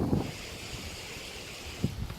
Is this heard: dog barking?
no